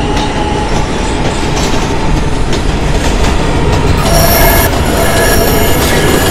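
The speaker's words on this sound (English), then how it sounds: "This is a Manhattan-bound 4 train." Manhattan-bound 4 train on the IRT subway rumbling steadily at close range, wheels grinding along the rails with a brief high squeal near the end, no talk.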